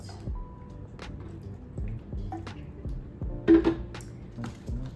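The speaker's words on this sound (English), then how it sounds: "I'm just gonna water this a little bit." A potted plant is watered by hand, with soft drips, trickles and small wet squishes of soil and moss, plus a few light knocks against the pot, close and quiet with no talk.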